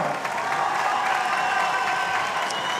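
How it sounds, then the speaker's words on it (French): An audience of boxing fans applauds both boxers after a bout, a sustained dense clapping from a crowd with scattered cheers, loud and even throughout. "Un public de connaisseurs qui applaudit les deux boxeurs."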